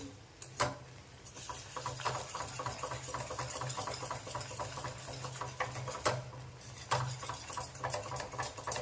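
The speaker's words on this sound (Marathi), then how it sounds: "एकसारखं आपल्याला हे असं हलवत राहायचं आहे याच्या गुठळ्या होऊ द्यायच्या नाही" Besan batter is stirred steadily in a pot, with a soft, continuous scraping and patter of spoon strokes and occasional sharper knocks against the side, faint and with no talking.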